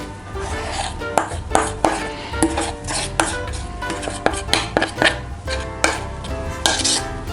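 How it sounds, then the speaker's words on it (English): Bread dough ingredients for peinirli are mixed in a bowl, giving close, irregular knocks and scrapes of a utensil against the bowl with some soft clatter. "So now we're just gonna mix everything in the bowl"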